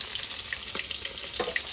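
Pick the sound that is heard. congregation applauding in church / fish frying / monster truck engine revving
fish frying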